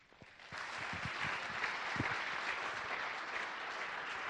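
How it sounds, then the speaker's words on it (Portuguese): A room of attendees at a talk on data and user experience applauds a presenter: after a few scattered claps, full, even applause sets in and holds at a moderate level to the end. "Palmas para Luiz Felipe."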